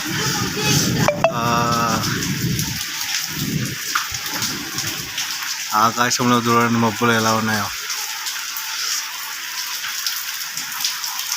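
Heavy rain pours down at night in Hyderabad, a loud, dense, steady patter and splash with gusty wind, while a person talks over it in short bursts.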